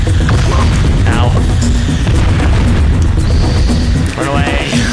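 Deep booming explosions from the video game Donkey Kong Country Returns, loud and repeated over game music and effects, with rumbling bursts running continuously through the stretch.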